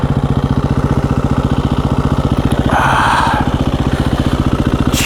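A KTM 350 EXC-F dual-sport dirt bike idles close by with a rapid, even single-cylinder thump, and midway a brief blip of throttle raises the engine note before it settles back.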